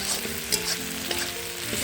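Ground ginger-garlic paste and spices sizzle and fry in a pot while being stirred, with a steady close crackle and no voice, cooked for a rooftop picnic meat curry.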